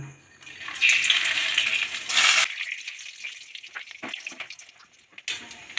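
Whole spices tempering in fresh hot oil for a pointed gourd korma, a loud broad sizzle bursting up then fading into softer crackles and a few utensil clicks, with no talk.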